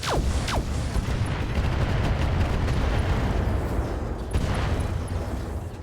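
Heavy mech weapons firing in the RogueTech battle game, a loud rolling barrage of booming blasts and crackling bursts that fills the whole stretch, with sharper impacts near the start and again toward the end.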